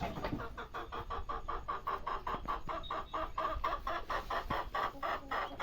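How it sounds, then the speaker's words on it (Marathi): A rooster on a goat farm clucks in a steady run of short, evenly spaced calls, close and fairly loud, over a faint background hum with no speech. "आणि हा कोंबडा आहे"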